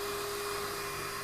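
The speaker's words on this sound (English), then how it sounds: "turn the vacuum motor back on, pull the trigger to get the remaining water out" A Numatic CT570 carpet extraction machine's vacuum motor runs steadily, a loud continuous whine with a constant tone throughout.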